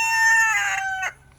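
A rooster crows loud and close in one sustained call, fading out near the end, outdoors by a chicken coop shaded with old panels laid on top.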